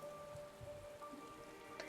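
Rain patters steadily in a cold, snowy Final Fantasy XIV area, soft and constant with faint game tones beneath and no talk.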